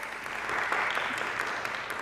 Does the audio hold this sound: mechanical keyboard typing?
no